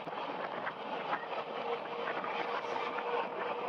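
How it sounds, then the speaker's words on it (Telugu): Palnadu Superfast Express picking up speed after leaving the station, heard from on board as a steady, fairly faint broadband rumble and rush of wheels and air with no distinct clacks. "స్టేషన్ నుంచి బయటికి రాగానే స్పీడ్ అయితే అందుకుందండి మన పల్నాడు సూపర్ ఫాస్ట్"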